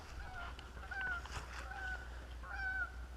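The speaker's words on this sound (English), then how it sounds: "Look at those low geese." Several geese honk in a loose series, the calls fairly faint and distant against a low outdoor rumble.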